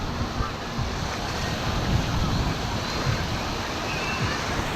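Sea waves washing on a beach at Marsa Matrouh, a steady broadband surf roar with wind buffeting the microphone, close and continuous throughout.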